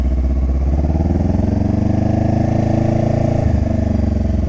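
A motorcycle engine pulls away slowly in first gear during low-speed practice, its close, steady idle-like chugging thrum running evenly throughout with no speech.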